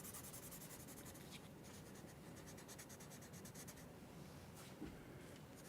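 Soft, continuous scratchy strokes of a 6B pencil held on its side, shading dark marks across paper, faint and close with steady rubbing rhythm and brief pauses.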